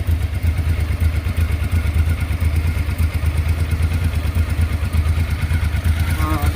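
A Honda XRV750 motorcycle engine, just fitted with a new rear cylinder valve cover gasket, runs at a steady close-up idle with a low rhythmic throb and light mechanical clatter, continuing evenly throughout.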